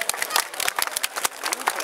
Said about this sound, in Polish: dlatego jeszcze raz serdeczne brawa dla nich